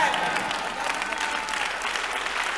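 Steady applause from a church congregation during a sermon, continuous and fairly close, with a voice briefly under the clapping.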